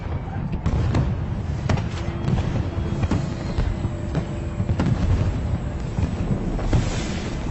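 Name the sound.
fireworks exploding in anime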